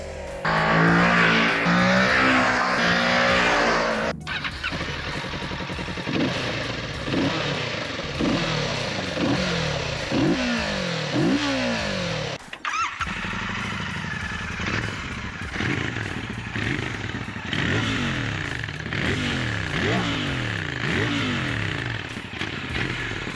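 A motorcycle engine idles close by with a throaty purr, blipped repeatedly by rising and falling revs in a regular rhythm.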